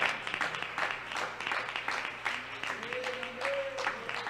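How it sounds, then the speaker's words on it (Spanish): A church congregation claps during a sermon, a dense, steady applause with a voice speaking over it and rising to a sung or shouted tone near the end. "Dele el aplauso al Señor"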